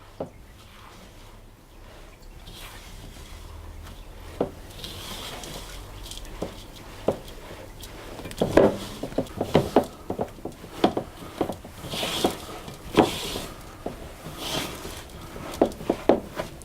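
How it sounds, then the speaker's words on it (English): Hazelnuts and chocolate stirred together into a thick paste give off wet, squishy clicks and knocks that start soft and grow busier and louder toward the end, with no voices. "So add the hazelnuts and the chocolate, and we're going to mix that together into a thick paste."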